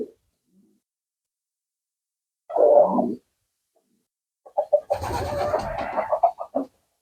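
Low pigeon coos come from a village loft where a female dove is feeding her young: one short burst, a pause, then a longer run of throaty calls broken into pulses, close and without speech.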